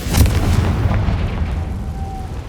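A Confringo blasting spell in the Hogwarts Legacy video game detonates as a single loud boom with a heavy low rumble that fades over about two seconds.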